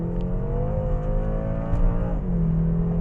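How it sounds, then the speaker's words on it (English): A 2013 BMW M6 pulls away hard from a standstill, its engine note rising steadily in pitch with a brief dip at a gear change before climbing again, loud and continuous from inside the car, with no talking. "I'll give you a little bit of an idea what this thing does out of the hole from acceleration, just from a standing point."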